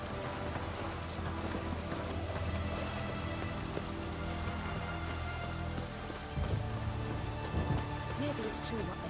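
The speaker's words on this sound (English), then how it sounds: "It's raining." Steady rain falls in The Witcher 3: Hearts of Stone, a dense continuous patter on surfaces that holds at an even level throughout, with faint voices underneath.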